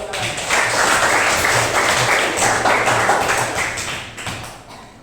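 Steady, dense applause from a large crowd fills the room for several seconds, then begins to fade toward the end.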